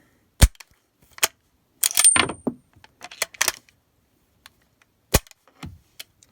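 A 1918 Lee Enfield SMLE No1 Mk3 rifle gives a series of sharp, close metallic clicks and clacks spaced irregularly, alone with no talk, as its trigger and bolt are worked.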